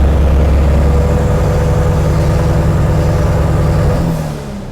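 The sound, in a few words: car engine revving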